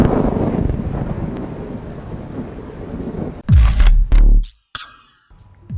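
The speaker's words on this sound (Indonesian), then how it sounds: "beredar video petir menyambar di lintasan sirkuit Mandalika pada Minggu 20 Maret 2022" Thunder from a lightning strike on the Mandalika MotoGP circuit during rain: steady rain and wind hiss, then a sudden loud close crack and rumbling bursts near the end.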